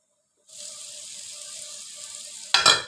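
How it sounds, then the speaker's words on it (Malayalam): Raw coconut oil pours into a curry as a soft, steady trickle for about two seconds, ending with a brief louder splash or sizzle, close and without talk. "ഇതിൻ്റെ അകത്ത് കുറച്ച് പച്ച വെളിച്ചെണ്ണ ഒഴിക്കണം."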